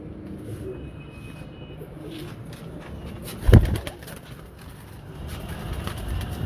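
Pigeons in a rooftop pigeon loft coo softly amid a low outdoor background hum, with one brief louder flutter or thump in the middle and no talking.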